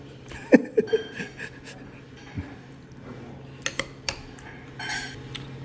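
A spoon stirs and scrapes through a bowl of patbingsu, Korean shaved ice dessert with red beans, making sparse clinks and gritty scrapes close by. Quiet breathing and faint room noise sit between them.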